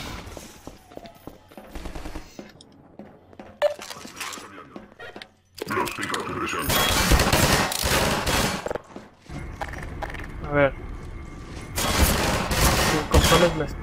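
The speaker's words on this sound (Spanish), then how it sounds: "Está disparando, tío." Gunfire in Half-Life 2: bursts of rapid automatic shots and heavy blasts, loud and close, coming in clustered volleys separated by brief lulls, with a voice talking over parts of it.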